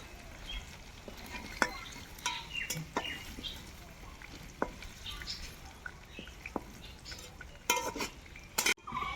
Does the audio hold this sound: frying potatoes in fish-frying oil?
yes